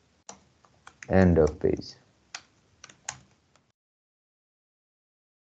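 Computer keys are tapped in short clicky bursts mixed with a person speaking briefly, then the clip falls silent.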